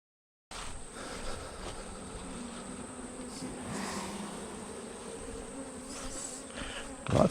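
A honey bee swarm hums and buzzes continuously around an open hive during an install, a dense, steady drone up close with faint rustling at the end.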